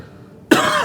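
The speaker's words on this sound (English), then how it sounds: "Sorry guys, I'm coughing." A man coughs once, a sharp, close burst that breaks a near-silent room and then trails off.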